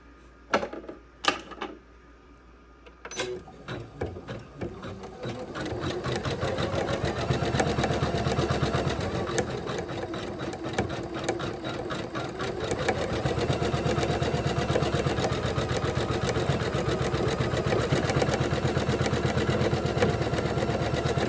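A Janome 500e embroidery machine stitching a Christmas tree ornament: a few sharp clicks and taps at first, then a steady, rapid mechanical chatter of needle strokes that runs continuously and close by, with no voices.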